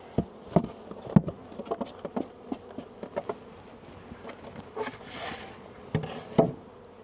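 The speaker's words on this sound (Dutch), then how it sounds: "De rest van de bijen gaat terug." Honey bees from a strong colony buzz around an opened honey super during a hive inspection. A steady hum runs throughout, broken by frequent sharp knocks and taps from handling the hive equipment, close to the microphone.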